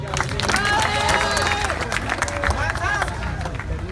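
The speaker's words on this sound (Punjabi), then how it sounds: "ਪ੍ਰੋਫੈਸਰ ਮੱਲੀ ਜੀ ਇੱਕ ਤਾੜੀ ਬਾਰ ਦੇ ਰਹੇ" Audience applause at a live gathering with a Punjabi singer, dense clapping and crowd noise mixed with loud talk and voices throughout.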